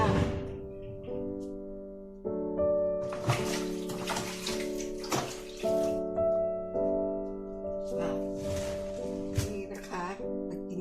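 Water runs from a tap in a steady stream while hands are washed beneath it, the flow shifting and splashing in uneven surges, close up with no talking.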